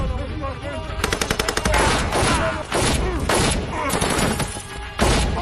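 Rapid machine-gun bursts and repeated gunshots crackle loudly in a close-range shootout from the 2008 film The Shepherd, in a scene in and around a bus amid a fleeing crowd.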